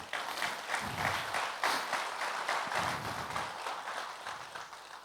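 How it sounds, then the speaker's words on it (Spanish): A church congregation gives a sustained round of applause, many hands clapping in a dense, fairly distant-sounding wash with a rhythmic pulse and some cheering mixed in. "Dale un fuerte aplauso al Señor."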